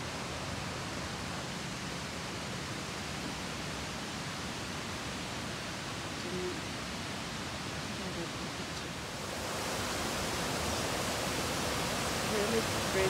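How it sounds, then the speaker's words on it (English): A small waterfall in an autumn forest produces a steady, faint broadband rush of falling water that grows slightly louder toward the end. "a little waterfall there."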